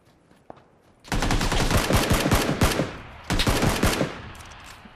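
Gunfire in the battle royale game PUBG: after a quiet start, a dense burst of rapid automatic shots rings out loudly for about two seconds, then a second shorter burst follows after a brief pause.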